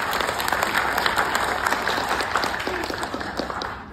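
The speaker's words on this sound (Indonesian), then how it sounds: "Tepuk tangan dong untuk kita." Steady, full audience applause at a motivational talk for a property marketing community, a dense wash of clapping that holds for about four seconds and eases slightly at the end.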